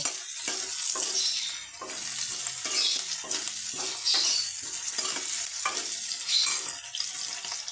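Gime greens fry and get stirred in a pan with garlic, a steady bright sizzle running throughout, with repeated scraping strokes of the spatula roughly every second, close and fairly loud.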